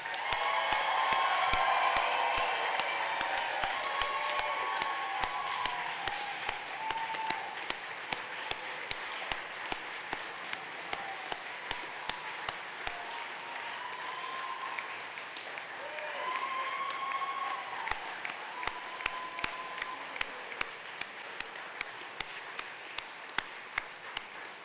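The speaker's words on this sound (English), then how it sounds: "please give a round of applause for all of our graduates" Sustained applause from a large audience at a naval nuclear power training graduation ceremony, dense clapping that starts strong, eases slightly, then swells again before continuing steadily, with scattered individual claps standing out.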